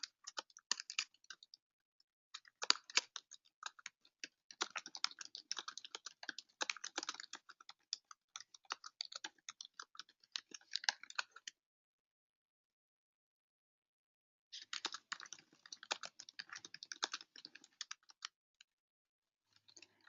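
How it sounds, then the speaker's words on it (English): Quiet typing on a computer keyboard in an office, irregular runs of soft key clicks that stop for a few seconds and then resume, close by with no talking. "So I can go ahead and type it in here."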